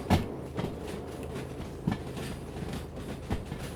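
Train rolling on rails in the video game Derail Valley, a low rumbling run with periodic clacks from the wheels over rail joints, spaced roughly every second or so.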